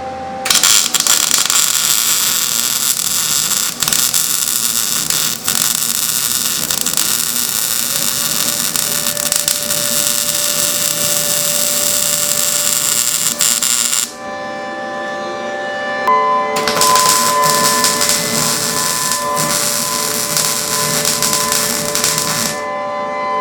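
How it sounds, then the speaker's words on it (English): Welding D rings onto a trailer, a loud continuous buzzing hiss from the welder that runs for a long stretch, drops off briefly, then resumes for several more seconds, close and without talk. "I got them welded on there"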